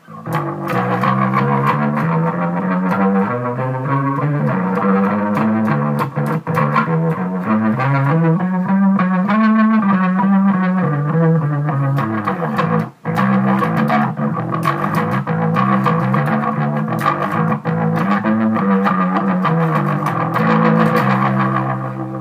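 A distorted bass line through a Leslie rotary speaker pedal at fast rotation plays continuously and loudly, with swirling, warbling modulation, notes sliding and shimmering throughout.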